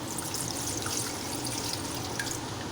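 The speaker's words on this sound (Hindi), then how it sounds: "2 गिलास में गोश्त को गलाने के लिए पानी इसमें ऐड कर दूँगी" Water poured from a glass into a cooking pot of meat with onions and green chillies, a steady close trickle and splash with faint dripping, alone without talk.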